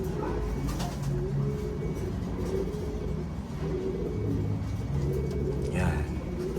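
Racing pigeons arriving at the loft during a derby race, cooing and fluttering nearby over a steady low rumble, with soft bird calls repeating throughout.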